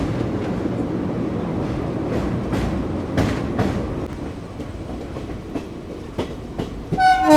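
18011 Chakradharpur Express rolling along the tracks near Kolaghat, a loud steady rumble of wheels and cars with rhythmic clacks, then a bright horn-like burst near the end.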